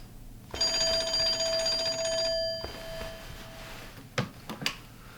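A telephone rings at a hotel front desk, a steady electronic trill of repeated tones lasting about two seconds in a quiet room, followed by a few faint clicks and handling knocks.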